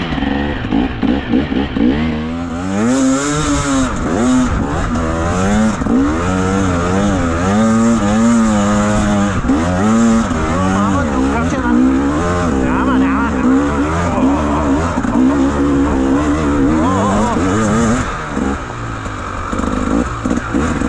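Enduro motorcycle engine revving up and down with throttle on a cold ride, loud and close throughout, with wavering pitch rising and falling in repeated pulls, and someone talking over it at times.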